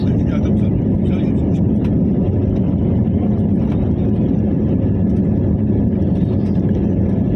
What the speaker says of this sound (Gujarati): તો મિત્રો ઉડાન ભરી રહ્યું છે વિમાન